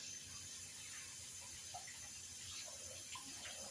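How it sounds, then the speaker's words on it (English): Hands washed under a running tap while making Southern buttermilk biscuits, a faint continuous water stream with soft splashes and rubbing, quiet and steady with no speech. "my hands are clean, but I will wash them"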